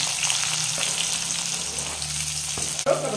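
Chopped onions frying in hot oil with urad dal, cumin and mustard seeds, a steady close sizzle throughout with a few light clinks near the end.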